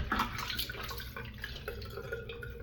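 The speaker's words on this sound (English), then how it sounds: "Alright, we fill the tank up." Water rushes steadily into a toilet tank during a flushing test, a continuous splashing, trickling fill heard close up and alone for a few seconds.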